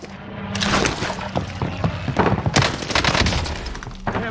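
Rapid gunfire from a video game shooter featuring an MP40, dense bursts of loud, close shots and thuds firing in quick succession across the whole stretch, with no talk over it.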